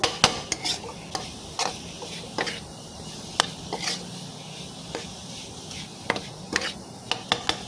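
Minced pork chili dip with young tamarind stir-fried in a pan, repeated sharp spatula scrapes and clacks over a low sizzle, close and fairly quiet, with no speech.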